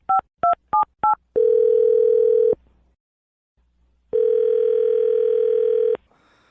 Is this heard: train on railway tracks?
no